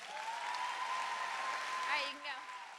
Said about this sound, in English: just one last round of applause